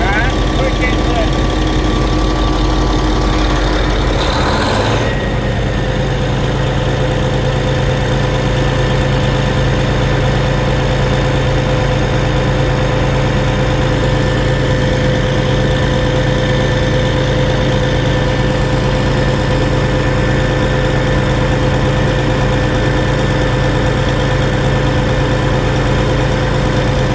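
A Diamond Z tub grinder with a troublesome hydraulic system runs loud and close, its heavy engine drone shifting a few seconds in, then holding a constant, vibrating roar.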